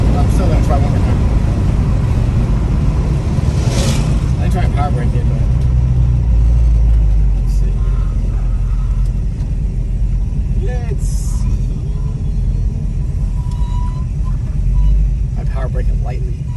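Ford 302 V8 engine rumbling loud and steady in a car during a burnout attempt, low throbbing drone with a few swells, while people talk over it.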